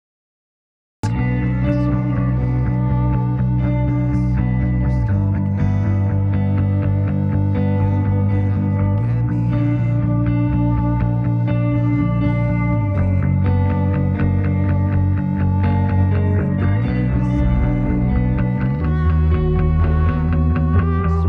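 A continuous instrumental music track with bass and steady chords, vocals largely stripped out by Acoustica's remix function, leaving only faint residue of singing in the background.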